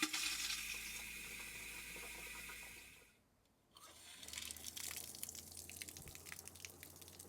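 Taps run and water flows through a plumbing system flushed with tank-cleaning solution, a steady rushing hiss that cuts off briefly, then returns with splashy, uneven spatter and drips.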